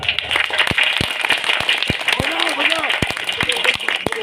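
Loud applause for bhajan singers at a religious scripture-reading gathering: sharp, distinct claps ring out in a steady rhythm, with a voice talking over them partway through.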